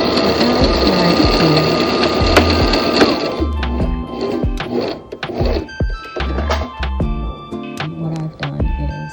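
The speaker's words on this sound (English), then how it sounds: "what I'm going to do is probably sew about another 6 inches" A sewing machine stitches silky shower curtain fabric in rapid mechanical bursts. The close, loud run breaks into choppy starts and stops, and a voice speaks briefly.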